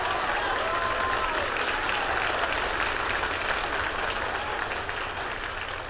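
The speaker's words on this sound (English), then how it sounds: "As you can probably tell from that applause, we have had a successful MECO, stage separation and second stage engine start for Electron" Sustained applause fills the Rocket Lab control room after Electron rocket stage separation, a broad continuous patter of many hands clapping at moderate distance that holds steady throughout and eases slightly toward the end.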